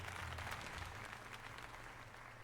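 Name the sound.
applause in video game Pokemon Legends Z-A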